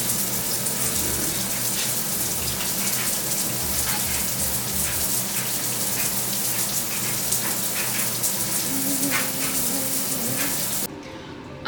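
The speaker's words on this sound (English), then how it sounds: "I will see you when I'm out of the shower." Steady hiss of shower water running and splashing for several seconds, dense and close, cutting off abruptly near the end; no voices.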